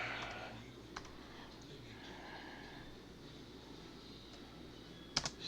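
Someone types a password on a computer keyboard in a quiet room: a few faint, sparse key clicks, with a small cluster of sharper taps near the end.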